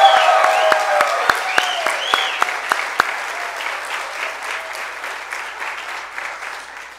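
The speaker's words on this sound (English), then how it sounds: "everyone please give Alyssa and her family a big round of applause." Audience applause for a graduating senior at a Senior Sunday church service, a full hall of clapping that starts strong and slowly tapers, with a few sharp individual claps near the start.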